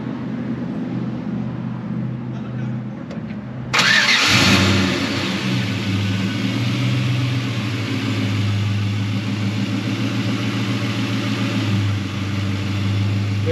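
An LS V8 engine in a 1972 GMC 1500 truck cranks and fires up with a loud roar, then settles into a deep, steady idle rumbling close by.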